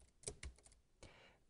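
Several crisp key taps on a computer keyboard, a short burst of clicks followed by one more press after a brief pause, close and fairly quiet against a silent room.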